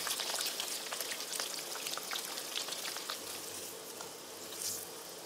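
Steady sizzling and crackling of eggplant frying in hot oil, continuous and fairly close, with small pops scattered throughout.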